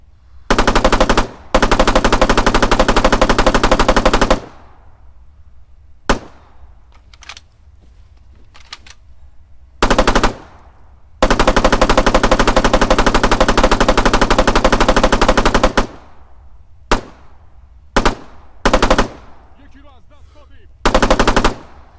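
A Spar 16S 5.56mm rifle in Arma 3 fires loud, close bursts of automatic fire, with long sustained strings and shorter bursts broken by quiet gaps and a few single shots, and no one speaking.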